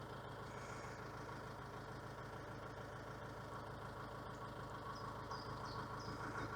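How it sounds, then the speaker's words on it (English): A narrowboat engine labours through weed on a canal with a low, steady, continuous drone at a faint level and no voices. "Labours the engine a lot, you know, if you just run it with a load of weed everywhere."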